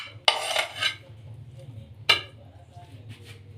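A utensil clatters and scrapes in a bowl as mashed potato paste is mixed with cooled sautéed vegetables for a Punjabi aloo paratha filling: two short, close scraping bursts over a low steady hum.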